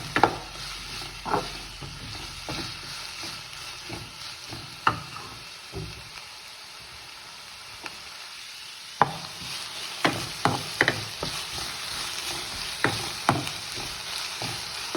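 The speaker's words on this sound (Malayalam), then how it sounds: "സവാള ഒരല്പം വഴന്ന് വരുമ്പോൾ നമുക്ക് ഇതിലേക്ക് ജിഞ്ചർ ഗാർലിക് പേസ്റ്റ് ചേർത്ത് കൊടുക്കണം" Thinly sliced onions sauté in a pan for chicken samosa filling, with a steady sizzle under repeated scraping stirs and clacks of the spoon, and no talking.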